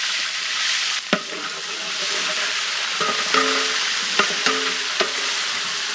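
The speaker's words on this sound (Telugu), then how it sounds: "అల్లం వెల్లుల్లి పేస్ట్ నూనెలో చక్కగా వేగాక" Ginger garlic paste fries in ghee in a pot with a continuous bright sizzle. A few sharp knocks of a spoon stirring break through the hiss, and faint tonal clinks rise midway.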